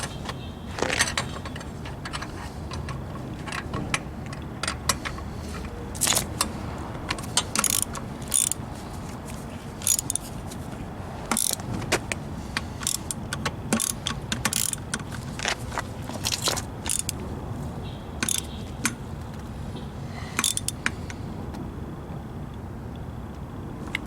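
A ratchet tightens the valve stem on a Craftsman lawn tractor wheel fitted with concrete wheel weights, giving a long run of sharp, rapid clicks in bursts, close and loud, with no talking.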